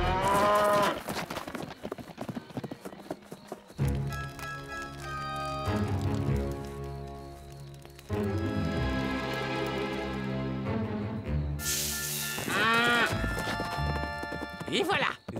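Cattle moo in a Lucky Luke cartoon, long drawn-out lowing calls over orchestral music, with a horse's hooves and voices talking in between.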